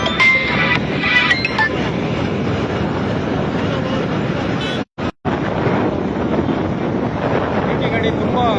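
Riding a two-wheeler bike at speed while chasing a car on a road near Madanayakanahalli: constant heavy wind buffeting and roadway rumble fill the clip, with a brief dropout midway and faint voices under the noise.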